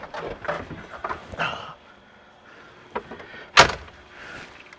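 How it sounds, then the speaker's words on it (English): A soft-top door on a tall Jeep LJ with a 6.2L engine is shut with a single sharp slam, preceded by fabric rustling and handling noises, with no talking. "Good old soft top doors."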